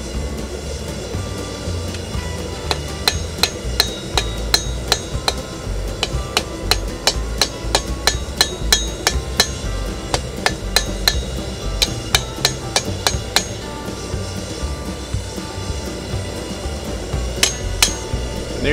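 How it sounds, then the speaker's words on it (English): Sharp metallic strikes from a plain hardware store hammer shaping a metal tip ring out in quick, uneven bursts, dozens of blows close by over a low background hum. "I'm just going to use just a plain old hardware store hammer now."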